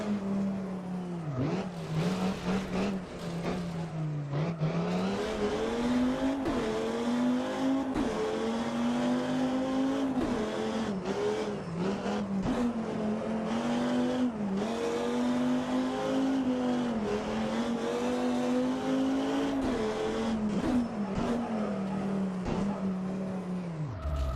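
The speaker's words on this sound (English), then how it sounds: "You can hear the turbo." Rally car in Richard Burns Rally, engine droning steadily with shifting pitch through gear changes and a turbo whoosh, loud and continuous without a break.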